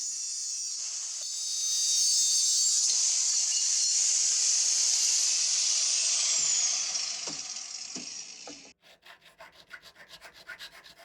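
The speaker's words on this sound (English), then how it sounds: "here I'm just cutting down that angled aluminium to close to the correct dimension. The angle grinder makes short work of this." Angle grinder cutting angled aluminium stock, a loud, high, sustained screech that holds for several seconds, then stops abruptly and leaves only faint clicks and handling noise.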